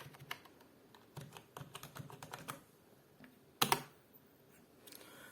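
Computer keyboard being typed on to enter commands on a Debian setup, irregular bursts of key clicks with short pauses and one louder clattering flurry near the end.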